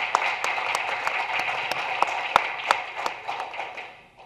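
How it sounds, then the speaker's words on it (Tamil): Audience applause welcoming author K Sukumar at his book launch, a dense wash of clapping with a few sharper individual claps standing out, steady and then tapering off toward the end. "நீங்கள் அதிகமான கைதட்டுதலோடு ஒரு வரவேற்பை கொடுக்க வேண்டும்"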